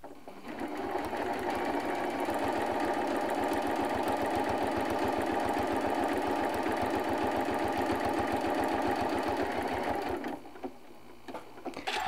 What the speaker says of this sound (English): So now I'm going to stitch these pieces together